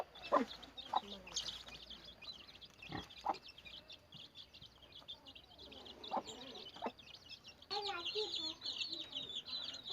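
A prolific brood hen clucks intermittently in short bursts, fairly close, with other birds chirping and soft farmyard noise in the background.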